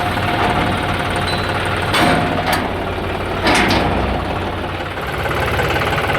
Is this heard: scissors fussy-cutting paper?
no